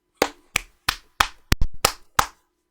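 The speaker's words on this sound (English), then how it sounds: "I gotta clap for that one" Seven sharp hand claps in an uneven rhythm, two landing close together, close and fairly loud with no talking.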